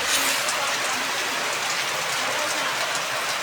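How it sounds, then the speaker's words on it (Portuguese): Heavy rain pours steadily on the town of Itatira, a dense, even hiss of drops drumming on surfaces close by, constant and loud throughout with no talking. "Agora, muita chuva,"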